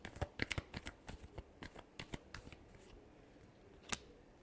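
Tarot cards are shuffled by hand in a quiet room, with a quick series of crisp riffling flicks and taps followed by a final single snap.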